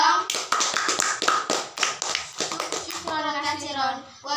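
An audience of young Islamic boarding school students claps in sharp, uneven bursts at a speech practice session, with children's voices mixed in among the claps.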